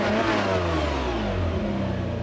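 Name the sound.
440-horsepower car engine revving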